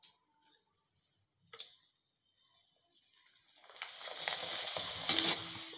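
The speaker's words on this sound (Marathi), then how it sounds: "तुम्हाला परत एक तळून दाखवते" A jowar papad dropped into hot oil for deep frying: near-silence with a couple of light clicks, then a sudden, growing bubbling sizzle that stays loud to the end.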